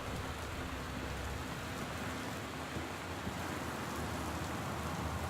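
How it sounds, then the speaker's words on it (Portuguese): Heavy, steady rain in the video game Gone Home pours down without pause, a dense continuous hiss with a low rumble underneath, loud and close throughout. "Isto está uma chuvada."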